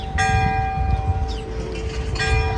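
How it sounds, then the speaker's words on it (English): A church bell in the historic market town of Ledbury tolls with long, ringing sustained tones, struck again near the end, over a low background rumble. "Now there's more bells ringing."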